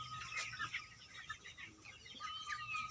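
Broiler chickens in a home shed, a few faint chirps and soft clucks scattered over a low background hum.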